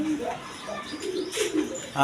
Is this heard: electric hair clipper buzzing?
no